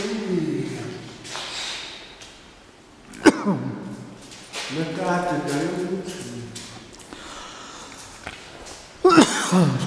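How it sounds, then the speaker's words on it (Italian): A man coughs a few times in short, sharp, close bursts, mixed in with Italian speech and rustling during a walk at a cemetery ossuary and crematorium. "colpito dalla tosse anch'io."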